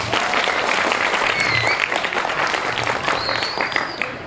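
A crowd at a Balinese bondres comedy performance in a village wantilan hall breaks into loud, sustained applause, dense clapping close by with a few faint whistles and voices rising through it.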